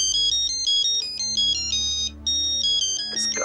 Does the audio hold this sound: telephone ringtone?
yes